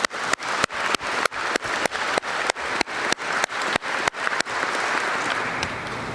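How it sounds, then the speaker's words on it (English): An audience at a 127th Wing change of command ceremony applauding airmen, starting with sharp, rhythmic bursts of claps and then swelling into steady, sustained applause, loud and close. "give a big round of applause for all the airmen in the back"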